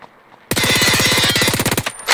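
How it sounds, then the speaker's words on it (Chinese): Rapid burst of video game gunfire, roughly twenty-five evenly spaced, loud shots in a tight automatic rhythm after a short quiet start, ending abruptly with a faint tail. "枪声。"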